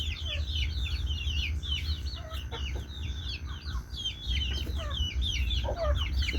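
Brahma chickens and other fowl on a small farm cluck steadily and overlap, up close. A low, constant rumble of strong wind runs underneath.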